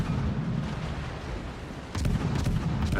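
Ship guns boom in World of Warships, a steady low rumble of distant cannon fire that swells into a louder, denser salvo near the end, with no voices.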